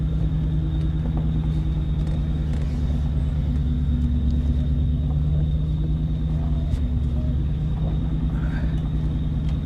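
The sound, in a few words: 1997 Ford Mustang GT engine running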